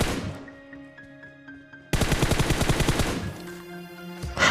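Gunfire in a battle royale mobile game fired from a stopped buggy: loud rapid bursts of automatic shots, a sustained rattling volley in the middle, with engine hum beneath and no talking.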